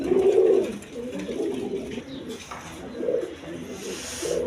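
A pair of Kaldam pigeons coos: a strong, close throaty coo opens, followed by softer, rolling coos that continue intermittently, with no talking.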